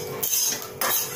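Sesame seeds dry-roasting in a hot kadhai give a brief, close, hissing crackle with a scraping, clinking rattle as they are stirred against the metal pan.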